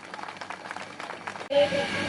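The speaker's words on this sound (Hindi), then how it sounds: "जोरदार तालियां बजाइए।" Audience applause at an employees' get-together in Malau village: speech carries for about a second and a half, then a loud burst of dense, sustained clapping from the crowd takes over.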